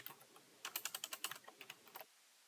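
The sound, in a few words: typing on a computer keyboard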